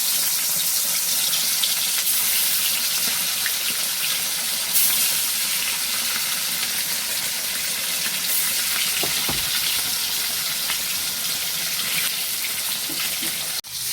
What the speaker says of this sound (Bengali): তেলটা গরম হয়ে গেছে, মাছটা ভেজে নিচ্ছি